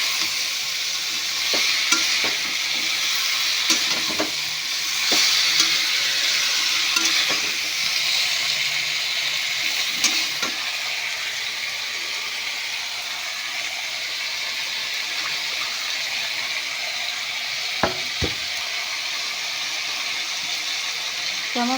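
Drumsticks (sajne data) and spices sautéing in a pan, a steady close sizzle broken by scattered spatula scrapes and knocks, softening slightly over time.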